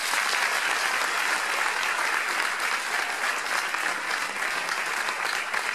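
An audience applauds at a choir concert in Portugal, a dense, steady wash of many hands clapping at an even level throughout.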